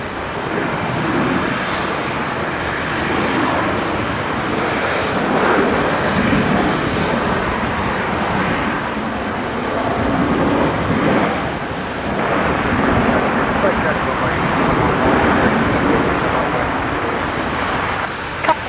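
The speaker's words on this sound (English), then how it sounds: "here we've got Qantas 620 line up. just touching down from Melbourne." A Qantas airliner touches down at Brisbane Airport on arrival from Melbourne, its jet roar rumbling broad and steady at a distance with swells of wind noise, no voices over it.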